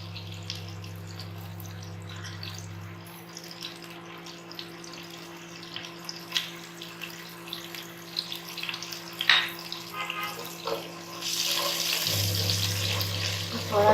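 Chicken mandi masala fries in a pan with a soft, steady sizzle and scattered stirring clicks, joined near the end by running tap water, with a low hum underneath.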